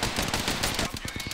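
Rapid automatic gunfire from a shooter game, Apex Legends, rattling in a dense burst then breaking into distinct quick shots, loud and close with a little voice mixed underneath.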